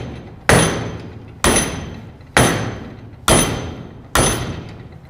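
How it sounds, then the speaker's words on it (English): An 8-pound sledgehammer strikes a steel weld five times at an even, slow pace, each blow a loud, sharp metallic bang with a ringing decay. "So we got an 8-pound sledge."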